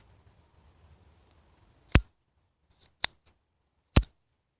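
Bolt action on a solid brass Boca Plus Rocket pen, three sharp metallic clicks about a second apart after near silence, close and crisp with no talking.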